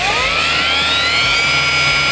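A cordless gearless Steelforce grinder with the cutting disc removed runs close by, giving a smooth, continuous motor whine that rises slightly in pitch, with no other sounds.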